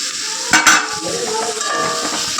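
Tomatoes drop into hot masala in a pan and sizzle, a spoon scraping and clinking against the metal as the mixture is stirred, close and steady with no talk.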